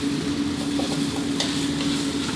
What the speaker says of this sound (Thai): ผัดคลุกเคล้าให้เข้ากันดีเลยครับ